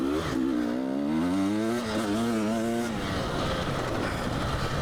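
A 2022 KTM 300 XC-W fuel-injected two-stroke dirt bike rides off-road, its engine droning and rising in pitch under load before the tone breaks into a rougher, steady roar.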